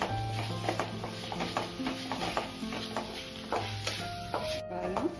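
Palak aloo gravy with salt being stirred in a pan, a spoon scraping and swirling in repeated strokes over a steady close sizzle.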